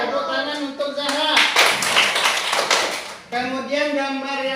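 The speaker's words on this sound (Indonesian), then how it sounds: "Tepuk tangan untuk Gibran." Students in a classroom clap together for a classmate after a correct answer, a loud burst of applause in the middle, with a teacher talking before and after.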